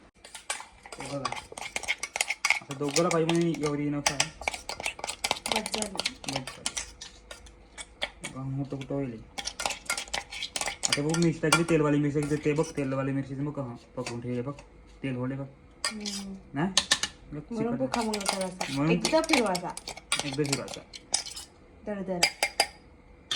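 Chutney ingredients being mixed in a metal vessel, clinking spoon-on-metal scrapes and taps in irregular bursts, close and clear, with someone talking at times between strokes.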